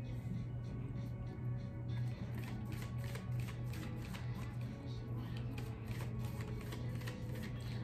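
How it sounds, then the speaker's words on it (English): Tarot cards being shuffled by hand in a quiet room, a steady run of close, crisp riffling clicks and flutters that continues throughout, with no one talking over them. "Let's shuffle some more though."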